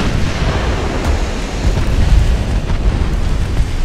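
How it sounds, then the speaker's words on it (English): Four-inch and six-inch shells strike during a 1905 pre-dreadnought battleship clash in the naval game Ultimate Admiral: Dreadnoughts, a loud continuous rumble of overlapping booms and roaring impacts with no voices. "Four-inch hits, 6-inch hits"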